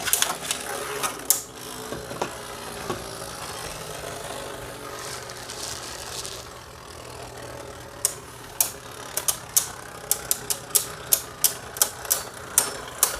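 Beyblade Mirage Fafnir spinning tops clash in a stadium, with sharp clicking impacts bunched at the start and then coming quick and repeated near the end over a steady whirring hum, with a voice talking faintly.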